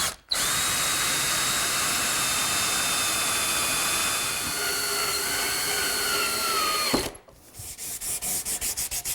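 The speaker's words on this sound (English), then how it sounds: "I'm going to drill a series of holes in the frame for screws" A power drill whines steadily as it bores into wood for several seconds, its pitch dropping as it stops, followed by a few quick mechanical clicks.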